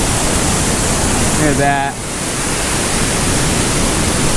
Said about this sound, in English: Move up here to the waterfall.